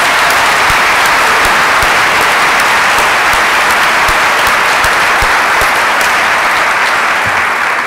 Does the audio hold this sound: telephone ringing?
no